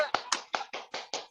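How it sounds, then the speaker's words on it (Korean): Audience clapping at a members' general meeting: six or seven distinct, evenly spaced hand claps, close and fairly quiet, with faint voices in the background. "다 같이 박수 한번 보내드리면 어떨까요?"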